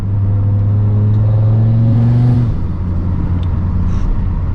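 An Audi RS3 turbo engine, still cold, revs up loudly with a rising turbo whine, then drops back to a deep idle rumble, heard close and alone.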